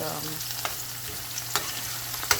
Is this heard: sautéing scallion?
yes